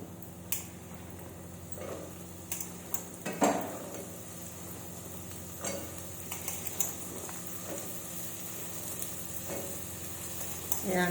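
Ridge gourd pieces and ginger fry in oil in a pan for an egg curry, a low continuous sizzle broken by occasional spoon scrapes and clinks against the metal.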